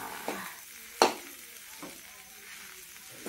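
Potatoes sizzle softly in a hot pan while being stirred, with one sharp scrape of the spoon against the pan and a few lighter clinks over the steady frying hiss.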